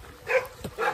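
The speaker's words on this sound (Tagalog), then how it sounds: "Ingay naman ang aso namin dito sa kapitbahay." A neighbour's dog barking nearby: two short, fairly loud barks about half a second apart.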